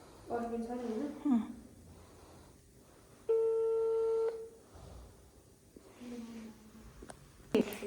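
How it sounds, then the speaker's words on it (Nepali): A mobile phone making an outgoing call, with a single ringback tone of about a second in the middle, and soft talking and breathing before and after it. "म प्रियालाई फोन गर्छु"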